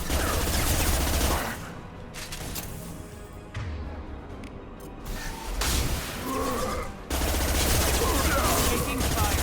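Rapid gunfire in Mass Effect 2 Legendary Edition, loud sustained automatic bursts with whooshing impacts, easing off in the middle before resuming at full intensity, with muffled voices underneath.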